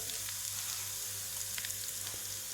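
Red chili powder frying in hot oil with browned garlic and garlic paste for a mushroom masala curry: a steady, close, continuous sizzle with faint crackles and a low hum underneath, no voices.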